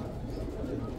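Pigeons, including egg-laying breeding birds, coo at a pigeon market in Baghdad's Adhamiyah district, a low, steady, close cooing that runs continuously with no talk over it.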